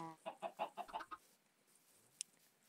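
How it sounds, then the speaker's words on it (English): A chicken in the Minecraft Simple Life 2 modpack clucks in a quick run of about six or seven bright bursts, then falls quiet apart from a single faint pop, close and clear with no talking. "Oh my god, we have a normal chicken."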